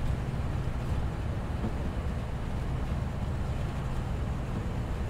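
Constant low droning rumble of a diesel multiple-unit train cab interior in Train Simulator 2019, East Coast Main Line route, even and steady throughout with no voices.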